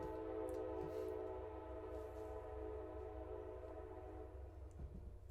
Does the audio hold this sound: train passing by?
yes